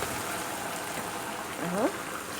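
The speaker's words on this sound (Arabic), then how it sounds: "هنزل بقى بميه مغليه" Boiling water poured from above onto meat in a pot while cooking an onion and meat tagine, a steady splashing, trickling rush lasting the whole moment, with a brief voice sound near the end.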